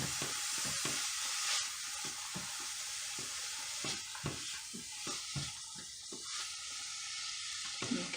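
Baingan bharta is stirred in a pan over a steady frying sizzle. Quiet, regular scraping and clacking sounds from the stirring repeat about twice a second, close by.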